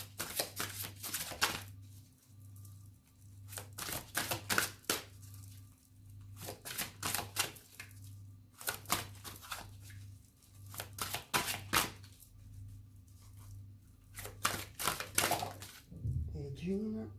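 Oracle cards being shuffled and drawn from a deck, heard as repeated bursts of crisp riffling and flicking in several clusters, fairly close, with a steady low hum underneath and a brief voice near the end.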